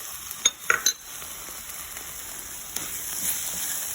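Ginger paste, turmeric, cumin powder and red chili powder frying in a pan make a soft continuous sizzle, with a few clinks of a utensil stirring early on and a light hiss throughout.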